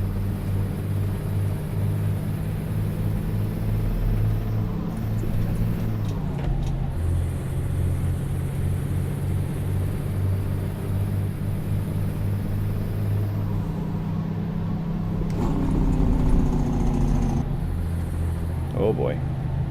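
A truck engine in American Truck Simulator drones steadily throughout, rising and settling as gears are shifted and revs are matched. Faint talk occasionally sits over the continuous low rumble.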